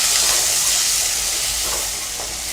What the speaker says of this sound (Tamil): வரமிளகாய், வெங்காயம், பூண்டு இது நல்லா வதக்கிக்கோங்க.